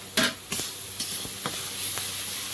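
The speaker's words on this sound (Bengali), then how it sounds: "মশলাটা ভালো করে কষিয়ে নিয়েছি" A spice paste of tomato, turmeric, salt, cumin and green chili sizzles softly in a pan as it is stirred, with a few spaced scraping knocks of the spoon over a steady hiss.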